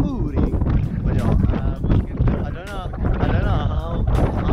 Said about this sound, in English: Really gnarly gust here.